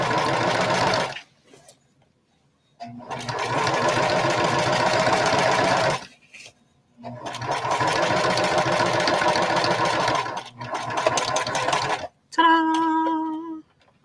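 Sewing machine running in long bursts while stitching a bucket hat, several multi-second runs separated by short pauses, close and steady, with a brief whirring tail at the end.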